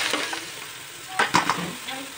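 Ginger, garlic and green chili paste sizzles and fries in a pan, a steady close crackle with a few louder bursts of spitting and stirring.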